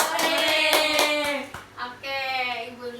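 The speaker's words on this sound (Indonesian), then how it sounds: "Lima jari tangan kanan, lima jari tangan kiri digabung jadi satu, jadilah tepuk tangan." A class of schoolchildren claps hands in a short burst of sharp, fairly close claps during a school orientation, mixed with a woman's speech and children's voices.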